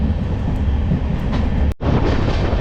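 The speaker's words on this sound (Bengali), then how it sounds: "এই মেট্রো যাচ্ছে" A metro train rolls past at a Kolkata station, a loud, steady rumble of wheels and carriages with a brief cut in the middle before the roar resumes.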